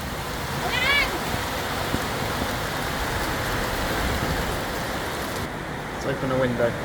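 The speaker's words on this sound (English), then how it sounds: "you can actually hear the rain coming before it gets near you" A continuous wash of rain hisses steadily on a roof in the rural Philippines, with brief faint tones and a voice near the end.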